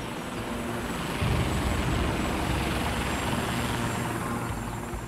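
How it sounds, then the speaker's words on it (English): Military helicopter circling overhead, heard as a steady, loud rotor and engine drone with a low pulsing rumble, continuous and without talk. "And the chopper started circling where we'd been."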